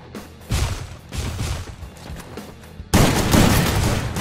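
Bursts of shotgun fire from an M1014 in the game Free Fire, loud blasts arriving in several clustered volleys, with the heaviest burst near the end and no voices over it.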